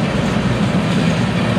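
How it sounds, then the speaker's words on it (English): Freight train of 43 sugar cars is shoved backwards, giving a steady, fairly close rumble of rolling wagons with faint rail clatter and no talk. "There are 43 cars in this train that is being shoved backwards."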